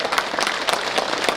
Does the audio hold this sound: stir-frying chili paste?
no